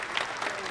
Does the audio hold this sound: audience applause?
yes